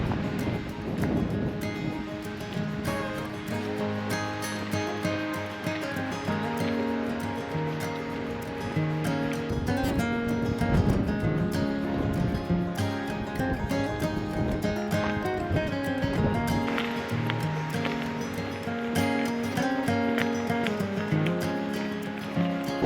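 Strong wind buffets the microphone on top of Scotts Bluff, a constant loud roaring rush that fills the whole stretch without a break.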